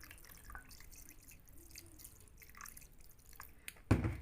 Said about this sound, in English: to wash it, you just need to use cold water